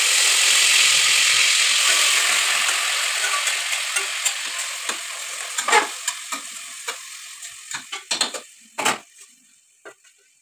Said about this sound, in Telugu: ఆయిల్లో 5 minutes ఇట్లా చికెన్ వేగాలి